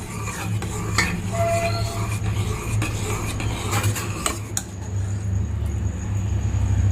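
Metal utensils scrape and clink against a pot in an uneven stirring rhythm, mixing tempering into ragda, with a low rumble of traffic underneath.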